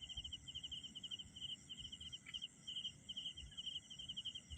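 Crickets chirp in rapid, high-pitched pulsing trills, steady and fairly faint, over a quiet low background.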